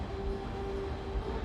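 A train running in the video game Plan B: Terraform, a steady low rumble with a faint sustained whine held throughout, even in level and with no talk.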